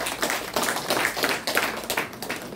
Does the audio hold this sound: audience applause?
yes